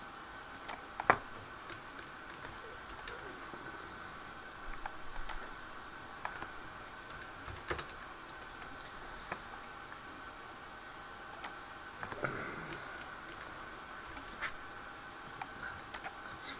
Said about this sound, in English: make sure you're typing in the right spot